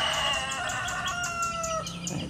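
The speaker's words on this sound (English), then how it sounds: "That darn rooster." A rooster crows once nearby, a long drawn-out call with a falling tail, over steady outdoor background noise.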